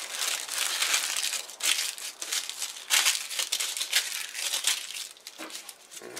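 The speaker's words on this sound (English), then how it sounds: "I'll take and I will wrap them in wax paper." Homemade beeswax candles being wrapped in wax paper for storage, with steady, close crinkling and crumpling of the paper in irregular bursts and no talking.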